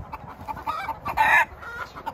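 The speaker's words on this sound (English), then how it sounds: "these birds are just losing it." Backyard chickens in a winter garden squawk and cluck loudly, building to a sharp crowing burst in the middle, with steady farmyard noise underneath.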